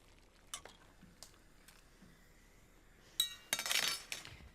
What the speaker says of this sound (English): So in goes my fagioli. A bit of a stir.